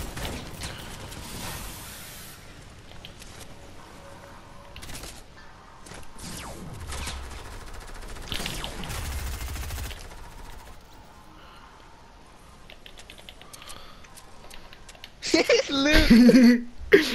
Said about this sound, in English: Oh god, he shoots at everything